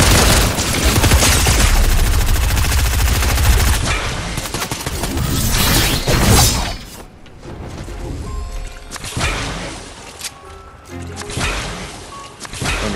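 Video game shootout with loud, dense gunfire bursting steadily for several seconds, then thinning into scattered shots and rattling impacts, close and dominant throughout.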